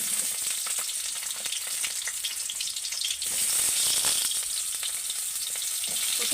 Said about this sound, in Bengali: প্রথমে আমি কলাগুলোকে ভেজে নিচ্ছি।